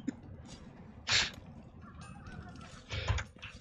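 A loud bird calling outside a window, heard as a couple of sharp, harsh honking cries standing out over a low background rumble.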